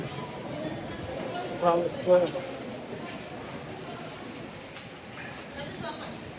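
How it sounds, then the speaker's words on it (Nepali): Train station ambience in Fukuoka, Japan, hums with a low rumble and distant echoing announcements, while people talk nearby and brief clatters rise above the steady noise. "यहाँबाट चाहिँ मेरो घर जाने ट्रेन चढ्ने हो"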